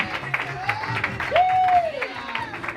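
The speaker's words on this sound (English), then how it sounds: "can we get a round of applause for Hayden's hair?" Comedy club audience in a small showroom room breaks into applause and cheering, a steady crowd clatter rising briefly louder midway, with voices calling out over it.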